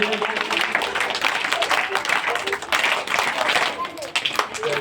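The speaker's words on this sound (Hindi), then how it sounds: "तालियां बजाने के लिए" Loud, close clapping from a crowd of children at a village Republic Day (26 January) program, irregular and energetic throughout, with voices mixed in under the claps.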